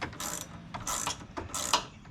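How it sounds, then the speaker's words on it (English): A ratchet tightening a nut while fitting a Rough Country rear lift on an FJ Cruiser, three quick bursts of close clicking separated by short pauses. "with this ratchet end,"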